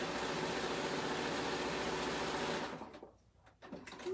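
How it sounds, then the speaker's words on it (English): A Bernina sewing machine stitches a cord down in couching, running as a loud, steady mechanical whir for about two and a half seconds before it slows and stops, leaving faint handling noises. "now I'm going to stitch a second cord down in the middle"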